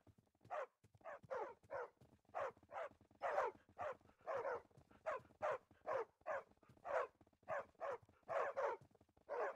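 Many dogs in Minecraft with the FTB Revelation modpack bark in a steady run of sharp, close, loud woofs, barks overlapping in a quick rhythm with no talk.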